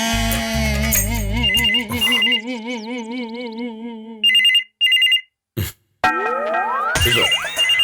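A telephone ringtone plays loud and close: a warbling electronic melody with wavering tones, then short bursts of chirping beeps separated by brief silences, ending in a rising jingle.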